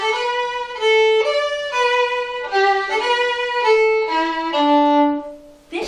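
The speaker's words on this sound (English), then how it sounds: "while the first violin is doing this, a viola was playing the melody." Bowed strings play a slow, sustained melody from Ferenc Farkas's Piccola Musica, with a viola carrying the tune against the violins. The notes are clear and close, changing every half second or so, with no talking.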